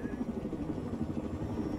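Helicopter in a video game, a steady throbbing rotor and engine drone that holds at even loudness for the whole stretch, close and continuous with no pauses.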